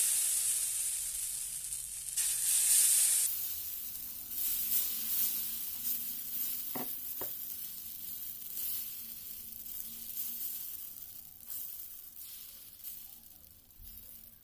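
Moong dal and jowar flour batter spread on a hot griddle sizzles with a steady close hiss and crackle, strongest at first and easing gradually, with a few light scraping taps and no talking.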